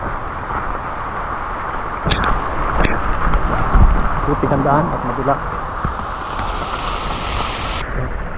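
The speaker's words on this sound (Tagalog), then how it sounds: "palakas ng palakas ang ulan" Heavy rain near a river on a hunting outing, a dense, steady hiss that swells as the downpour builds, with someone talking over it throughout.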